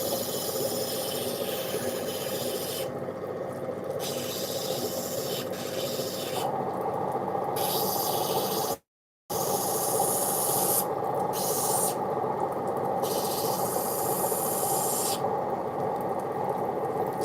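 Steady hand sanding with 240 grit sandpaper, a continuous close rasping rub with brief changes in stroke and one short silent gap.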